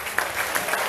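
Brief burst of audience applause at a live singing event, steady clapping close to the microphone.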